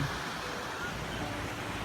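Sea waves wash steadily onto the sand at Yanui Beach in Phuket on the Andaman Sea, a continuous broad surf hiss with wind buffeting the microphone and faint talk underneath.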